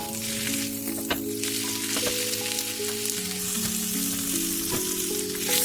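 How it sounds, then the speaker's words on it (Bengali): Marinated tilapia fries in butter on a hot grill pan, producing a loud, steady, crackling sizzle throughout, with faint occasional taps. "এবার একটা গ্রিল প্যান ভালো করে গরম করে নিয়ে বাটার লাগিয়ে নিয়ে ম্যারিনেট করা মাছটাকে 5 মিনিট এপিট ওপিট করে ভালো করে ভেজে নিতে হবে"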